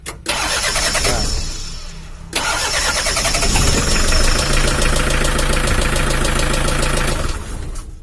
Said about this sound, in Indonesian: saat mesinnya panas pun kita bisa starter langsung